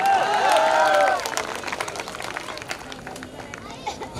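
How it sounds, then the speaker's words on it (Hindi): Audience at an ex-servicemen welfare association program clapping, a thick burst of applause that soon thins into scattered claps while a voice speaks over it. "तालियों की गड़गड़ाहट बता रही है कि आज की महफिल का पूरा नंबर आप लोग लेके गए"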